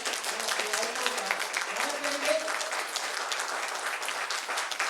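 Enthusiastic applause at a direct selling business event, steady continuous clapping from a crowd with a few voices murmuring underneath.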